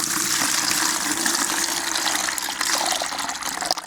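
Water gushes steadily as it is drained off African horned melon seeds, a continuous loud pouring and splashing rush lasting throughout with no talk.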